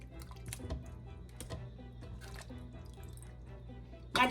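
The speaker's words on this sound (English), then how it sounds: "I'm just gonna put them in my strainer like this." Pickles are poured into a small kitchen strainer, giving faint scattered drips and soft wet clicks of liquid draining, with a louder clattering burst right at the end.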